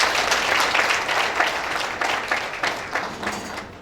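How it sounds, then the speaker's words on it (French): Staff at an annual company meeting and party break into steady, dense applause, many hands clapping together at close range with small swells throughout. "Si vous pouvez le faire, acclamez-vous encore une fois."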